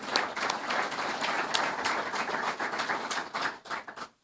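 Audience clapping at a live meet-the-candidates event at Jefferson College, a dense, steady round of applause from a crowd that tapers off at the end.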